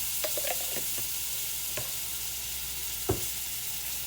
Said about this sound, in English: we're adding a big tablespoon of minced garlic